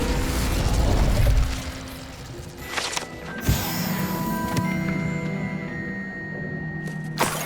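A low, roaring burst of fire from the Incendio spell in the video game Hogwarts Legacy flares loudly at the start, then gives way to quieter mechanical clicks and game sounds.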